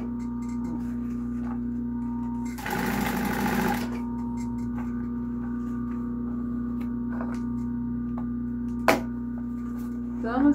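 A sewing machine stitches bias binding onto a small fabric case, a steady mechanical hum with a short louder burst of fast stitching in the middle and brief ticks near the end, close by.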